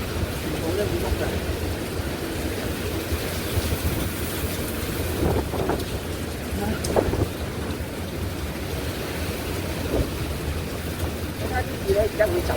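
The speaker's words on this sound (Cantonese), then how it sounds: "你睇下啲風，不停吹到啲雨咧，你睇下，幾大！" Typhoon Ragasa, under a No. 10 signal in Hong Kong, drives wind and rain against a home window: a steady, close, heavy roar that surges now and then and never lets up.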